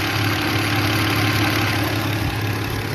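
A Kia Carnival fitted with a petrol engine idles steadily nearby, a constant low rumble with no revving or voices.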